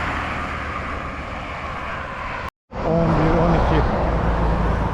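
A car drives past on a seaside road, a steady roar of engine and tyres that cuts out briefly, then returns with a stronger, tonal engine hum.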